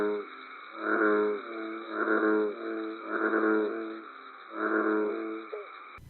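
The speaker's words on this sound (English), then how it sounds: "this sound originates from a American bullfrog," An American bullfrog calls four times at even intervals, each a deep, resonant, drawn-out croak, fairly faint against a steady high background tone.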